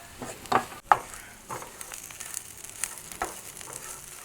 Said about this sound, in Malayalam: സവാളയും തേങ്ങയും നമ്മളെല്ലാം കൂടെ വഴറ്റി വെച്ചിട്ടുണ്ട്